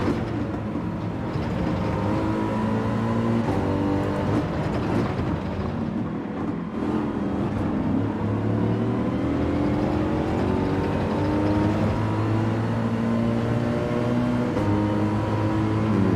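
A race car in Gran Turismo 7 accelerates down a straight, its engine droning steadily and climbing through gear changes as the pitch rises and resets, continuous and close with no speech.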